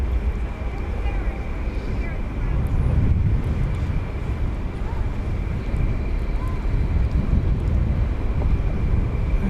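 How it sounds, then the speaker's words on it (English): Qantas Flight 7, an airliner arriving from Sydney at Dallas Fort Worth, passes as a broad, far-off rumbling roar mixed with wind buffeting, swelling slightly midway and holding steady. "There's Qantas Flight 7 coming in from Sydney."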